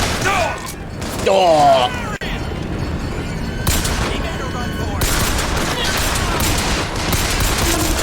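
Gunfire in BioShock Infinite, a burst of rapid shots with mechanical clatter and short booms, a voice talking briefly over it, and busy game noise throughout.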